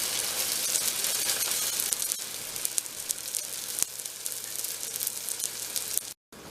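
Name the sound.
green onion cake frying in pan after flipping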